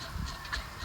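Several turkeys call close by in a short, honking fowl chatter, a couple of brief bursts standing out over a low rumbling background.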